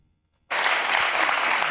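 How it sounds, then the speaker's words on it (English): Loud, dense applause from an audience breaks out suddenly after a near-silent half second and carries on steadily to the end. "Like, y'all literally clapping to this."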